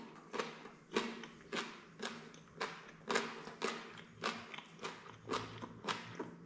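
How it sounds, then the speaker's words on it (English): Crunchy food being chewed up close, with sharp crunching bites repeating at a steady rhythm about twice a second, loud and alone with no talking. "So this just adds a little bit of crunch to my food"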